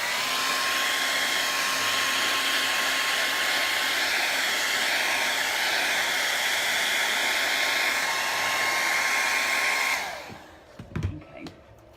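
A hair dryer blowing over a metallic paint finish, a steady loud whooshing whir lasting about ten seconds before it is switched off, followed by a few faint handling knocks.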